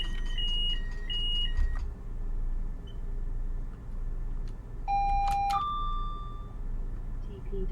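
Train cab warning tones sound in a Class 802 simulator: a run of short repeated electronic beeps, then a longer sustained two-tone alarm, over a steady low engine hum.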